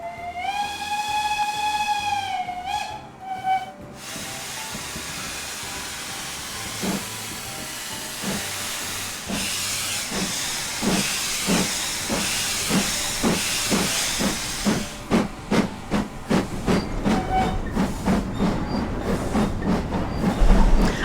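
An LMS Hughes Crab steam locomotive in the Train Simulator game blows a clear whistle, then hisses steam and pulls away with steady exhaust chuffs that grow quicker and louder.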